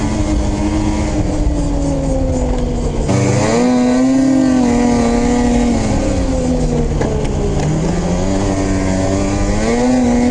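A Polaris Switchback Assault 850 snowmobile roars close by as it is ridden, its engine revving and pitching up and down in a loud, continuous drone, briefly dipping then climbing again.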